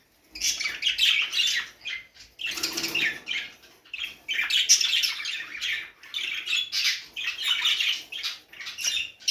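Budgerigars chirp and squawk in rapid, busy bursts close by, a chattering flock of warbles and sharp calls with brief pauses between flurries.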